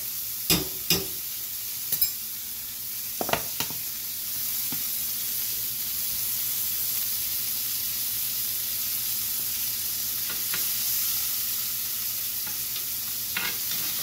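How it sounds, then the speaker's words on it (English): Butter sizzles in a large cast iron pan indoors, a steady broadband frying hiss lasting throughout, with a few sharp clinks and scrapes from stirring near the start and again briefly later. "go ahead and add another stick of butter"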